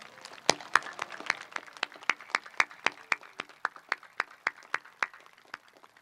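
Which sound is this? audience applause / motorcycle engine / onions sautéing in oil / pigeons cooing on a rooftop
audience applause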